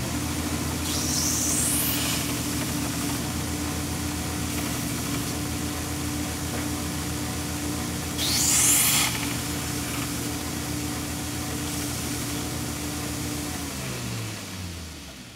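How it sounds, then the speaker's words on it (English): A belt grinder grinds off nails in a steady, loud, hissing drone, with two brief sharper bursts of contact before the motor winds down at the end. "I find it a lot easier to just grind them off. And I've got my belt grinder here for that"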